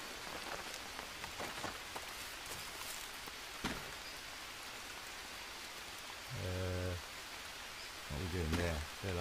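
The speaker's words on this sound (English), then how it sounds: "now it's raining" Steady in-game rain in the Green Hell jungle survival game falls throughout as a dense hiss, with low tonal game sounds and clicks rising over it near the end.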